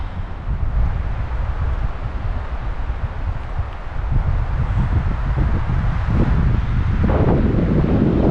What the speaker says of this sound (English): Is this mic picking up the wind? Because it is super, super windy.